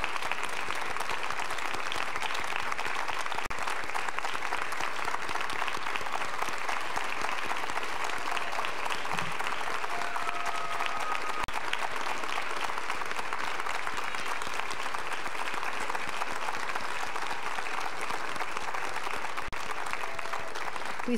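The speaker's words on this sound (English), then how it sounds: "So please give them another round of applause." Sustained applause from a concert audience at a spring concert, a thick even roar of clapping that holds steady for a long stretch with occasional louder claps near the front.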